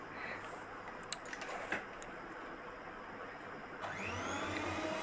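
An electric hand mixer whipping cream hums and whirs steadily nearby, with a few clicks and knocks against the bowl, the motor rising slightly toward the end.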